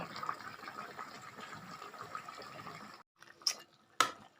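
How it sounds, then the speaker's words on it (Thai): Catfish and eggplant curry simmering in a pot, soft steady bubbling and gurgling at close range, then a short silence followed by a couple of sharper splashes or drips. "ระหว่างนี้ก็ปล่อยให้เดือดสักหน่อยครับผม"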